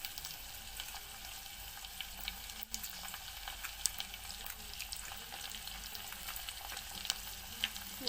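Onions frying with mint and curry leaves in a pan, a constant faint crackling sizzle with scattered pops and the occasional light stir.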